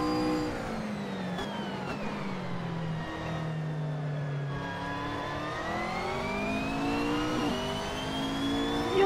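A GT3 race car in Assetto Corsa at the Vallelunga circuit revs continuously, its engine note rising and falling through gear changes, loud and steady with no talk.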